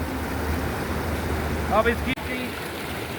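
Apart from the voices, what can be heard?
cold mountain stream flowing on Leh to Srinagar road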